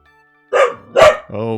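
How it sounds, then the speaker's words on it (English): A dog barks twice in quick succession close to the microphone during a live stream, followed by a brief voice-like sound, with near silence before the barks. "Dog is barking."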